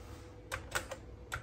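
A few separate keystrokes are tapped on an Apple Lisa computer keyboard, soft and close with short gaps between them.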